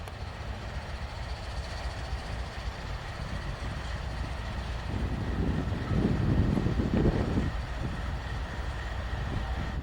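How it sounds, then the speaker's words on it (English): A train rumbles past, the low roar building to a peak midway and then easing off, with no voices. "Oh, that train was creeping up on me, but I heard it."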